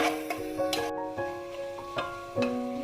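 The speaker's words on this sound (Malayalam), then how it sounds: "അതുവരെ ഒന്ന് വഴറ്റി കൊടുക്കാം." Green chillies and biryani ingredients being sautéed in a pressure cooker, with a spoon scraping and stirring in short repeated strokes over a faint sizzle, close and alone without talk.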